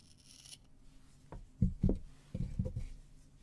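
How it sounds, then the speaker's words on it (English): Scissors cutting crochet yarn: a few quick, soft snips and rubbing sounds close by after a quiet start, no talking. "We'll cut our yarn."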